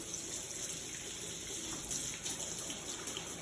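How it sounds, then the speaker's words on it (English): Water runs steadily from a kitchen tap while hands are washed beneath it, a continuous close gush with no voices. "Wash my hands, I'll be right back."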